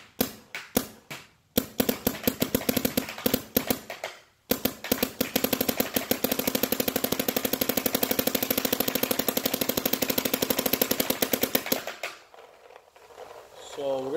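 Planet Eclipse LV1.5 paintball marker on stock settings with a 4,500 psi tank, firing a few single shots, then a long rapid string of sharp pops before stopping.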